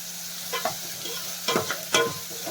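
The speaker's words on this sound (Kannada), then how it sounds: "ಈಗ ಈರುಳ್ಳಿ ಸ್ವಲ್ಪ ಫ್ರೈ ಆಗಿದೆ" Chopped onions with curry leaves frying in a pan, soft sizzling under a few distinct scraping strokes of a spatula, close up and alone.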